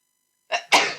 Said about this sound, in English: Allergies, sneezing, itchy nose.